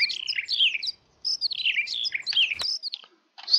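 Birds chirping as ambient environment sound on the large Wisniowo map mod in a multiplayer farming game, bright rapid tweets in bursts with short pauses, clear and close with no talk.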